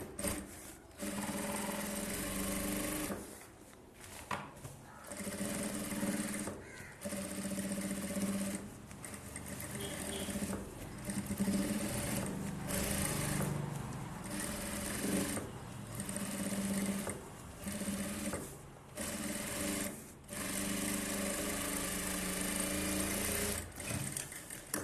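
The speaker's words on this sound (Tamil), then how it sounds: "இந்த எஜ்ஜு தையல் வந்து நல்லா க்ளீனாக போடுங்க" A sewing machine stitches along the edge of a blouse, running in a steady whirring hum through several long bursts broken by short pauses, close by and moderately quiet.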